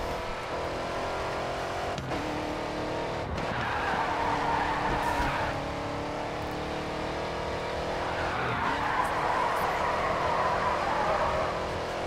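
A car in the racing game GRID 2 drifts with long, loud tire squeals that swell and fade over a steady engine drone, with several squeal bursts in a row.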